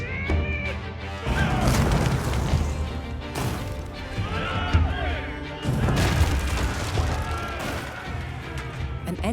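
Spearmen smashing a wooden palisade in Age of Empires IV, loud bursts of crashing, splintering impacts with rumbling booms and clatter, arriving in several heavy waves.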